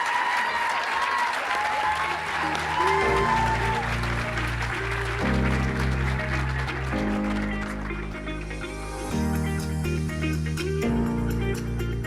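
An audience applauds for students and honorary Pi Alpha inductees at a university PA completion ceremony, sustained clapping running throughout as music plays over it.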